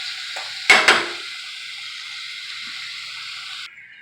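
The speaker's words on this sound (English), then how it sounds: "I'm going to stir it around and get the olive oil coated on everything and saute it." Vegetables sauté in olive oil in a pan, a close, steady sizzle with a couple of sharp stirring clatters near the start before the frying hiss cuts lower.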